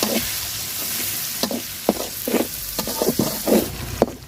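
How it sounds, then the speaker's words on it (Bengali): Onions browning in oil hiss continuously up close, with a rhythmic run of spatula strokes scraping and clacking against the pan over the steady sizzle. "পেঁয়াজটা একদম লাল লাল করে ভাজবো।"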